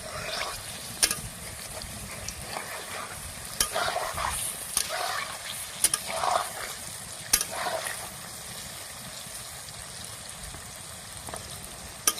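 Palm fritters deep-fry in oil, a soft steady bubbling sizzle broken by sharp spoon taps and stirring clinks at irregular intervals, heard alone and fairly quiet.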